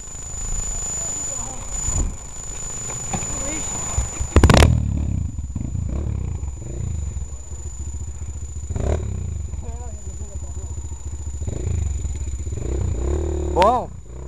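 Motorcycles ride over rough ground with engines droning and revving in bursts, with clattering and scraping of the bikes close by and a voice talking over it throughout.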